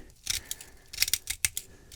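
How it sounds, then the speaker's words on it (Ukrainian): Scissors snip repeatedly in a workshop, with a series of sharp, close, crisp cutting clicks in an uneven rhythm and no talking. "Не маєте такого, маєте такі ножниці. Ріжте такими."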